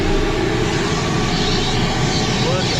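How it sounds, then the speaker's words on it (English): A 5 horsepower Ridgid shop vac with attachments runs steadily at close range inside an RV, a loud continuous roaring whine with no breaks. "the good old 5 horsepower rigid shop vac with attachments"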